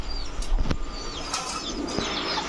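A black female pigeon beats its wings in a few quick flurries of flapping, close by, over a steady noisy background.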